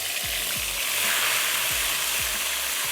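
Whipped yogurt mixed with spices poured into hot oil with black cumin for dum aloo, giving a steady loud sizzle throughout with a few low thuds from stirring.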